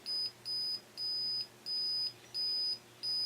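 Empire 48-inch digital box level beeps with a high pure electronic tone as it nears level, six repeated beeps lengthening into near-continuous tones with short gaps, close and clear with no talking.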